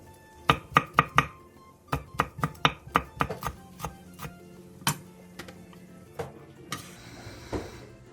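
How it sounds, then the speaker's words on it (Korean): A knife chopping green onion and red chili on a cutting board, rapid sharp taps in quick runs that slow and thin out, close and crisp, a soft hiss beneath, no talking. "대파 초록 부분 조금과 홍고추 조금을 쫑쫑 썰어주세요."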